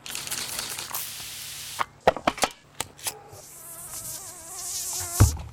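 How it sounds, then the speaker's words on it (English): Mosquito buzzing as a thin, wavering whine that rises and dips in pitch, close and fairly loud, mixed with some clicks and rustling bursts partway through. "The mosquito. They're ruthless."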